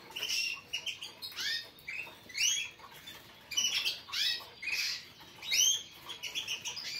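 Young birds in a cage repeat quick rising chirps in short bursts, with soft scuffling between them, close by and fairly quiet.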